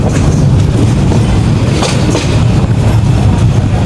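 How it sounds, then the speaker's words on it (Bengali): The Agnibina Express rolls into Jamalpur Town railway station, a loud, steady rumble of wheels on rails with clattering under it, heard close from on board without voices. "আমাদের ট্রেনটি এখন প্রবেশ করছে জামালপুর টাউন রেলওয়ে স্টেশনে"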